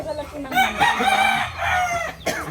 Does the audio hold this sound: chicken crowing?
yes